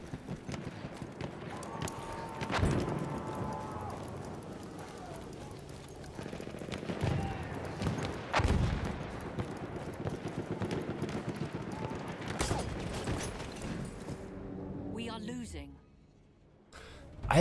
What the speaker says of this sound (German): Alter, du schießt ganz schön frech.